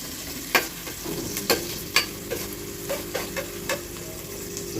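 Onions for biryani sizzle in a hot pan while a spoon stirs them, making a run of sharp scraping knocks roughly every half second over a continuous frying hiss, close up with no talk.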